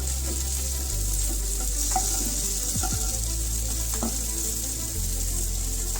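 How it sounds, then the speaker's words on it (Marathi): Slices of surmai fish fry in a pan with a continuous, close sizzle and crackle, joined by a few light scrapes and taps along the way, with no one talking. "आणि अशाच गोल्डन ब्राऊन होईपर्यंत दुसऱ्या साईडून सुद्धा फ्राय करून घ्यायचे आहेत."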